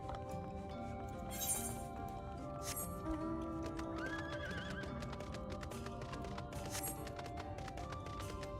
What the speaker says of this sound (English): Sorry that I'm riding a horse inside your homes.